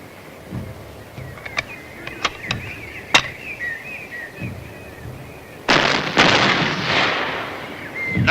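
A big gun in a film fires several sharp, isolated shots over a quiet stretch, then a loud, sustained roaring blast takes over and carries on to the end.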